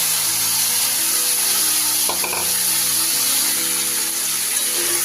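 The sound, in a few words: marinated black pepper chicken frying in melted butter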